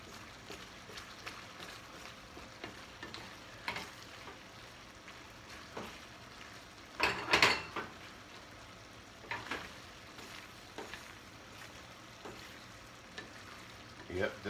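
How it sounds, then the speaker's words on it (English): A wooden spoon stirs sausage, pasta and spinach in a frying pan, giving a low steady sizzle with soft scraping strokes and a louder clatter of stirring partway through. "Keep stirring it."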